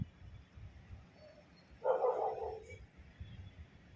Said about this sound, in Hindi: अब भौंक रहा है ये क्यों?